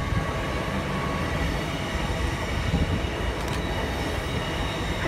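A Class 802 train rumbles past steadily at close range at Salford Central station, a dense continuous roar of wheels and engine with a brief high squeal partway through.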